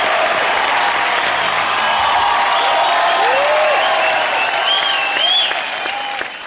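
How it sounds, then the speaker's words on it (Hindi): Sustained, loud applause from a studio audience on an Indian comedy show set, greeting Bharti and Karan, with a few whoops and cheers rising over the dense clapping throughout, fading slightly at the end. "जोरदार तालियां हो जाए भारती और करण के लिए"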